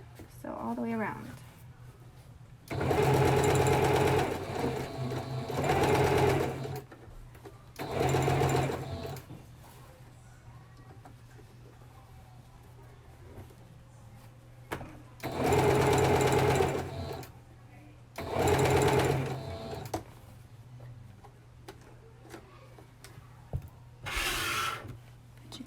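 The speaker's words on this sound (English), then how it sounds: "I'm just going to sew all the way around, and this is going to be all the way at the edge with a long stitch length" Sewing machine running a long stitch length all the way around a fabric edge for a puff sleeve, in several loud, close bursts of rapid whirring separated by quieter pauses, with a voice talking in the gaps.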